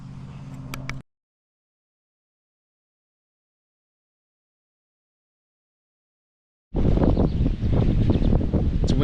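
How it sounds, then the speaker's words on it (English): Strong wind buffets the microphone outdoors at a large wrecking yard: a short loud gust, a stretch of silence, then a sustained, close, rumbling roar of wind noise. "It's windy as heck, you probably can't hear me"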